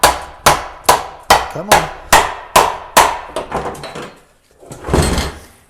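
Hammer tapping on a part of a 2007 Dodge 5.9 diesel engine: a steady run of about a dozen sharp metallic knocks, close and loud, that grow quicker and softer toward the end before a short rustle. Someone briefly speaks.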